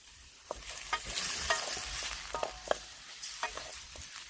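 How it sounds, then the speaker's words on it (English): Pork sizzles and crackles as it is stir-fried in a hot pan, with scattered pops and the scrape of stirring throughout. "Stir frying it up."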